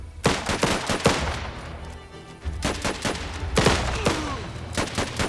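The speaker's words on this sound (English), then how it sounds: "Open fire with that machine gun, mate." Bursts of machine gun fire in the war strategy game Last Train Home, several loud rapid volleys with short pauses between them, close and sharp, no talking.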